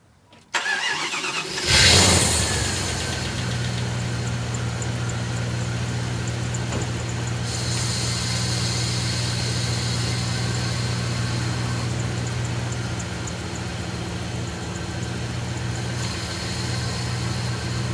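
A Jeep ZJ 5.2L V8 engine cranks and catches after about two seconds, then settles into a steady, low, rumbling idle that continues evenly to the end.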